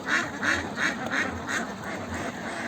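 Ducks at a Bengali village duck farm quack in a steady run of about eight loud, evenly spaced calls, close by, with no talking.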